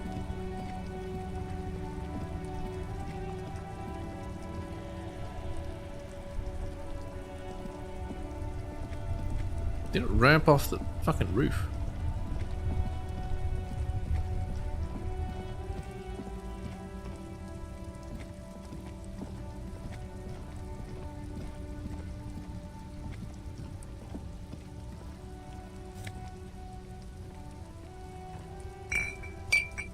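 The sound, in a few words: rain falling in the video game Disco Elysium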